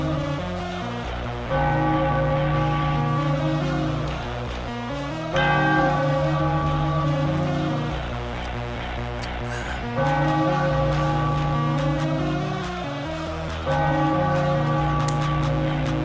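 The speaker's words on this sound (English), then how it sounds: "Ring the bell." A bell rings repeatedly at a basketball arena during an NBA game between the Philadelphia 76ers and Golden State Warriors, loud sustained clangs under constant crowd roar, with a commentator speaking over it.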